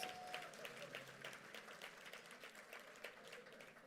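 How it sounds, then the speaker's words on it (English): At a black-tie gala, an audience claps for an honoree, a crowd's applause that starts fairly strong and gradually thins and fades, with a faint voice now and then underneath. "give Lancelot Clark another round of applause"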